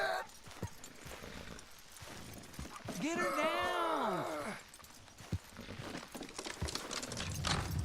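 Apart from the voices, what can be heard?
horse hooves in Red Dead Redemption 2 video game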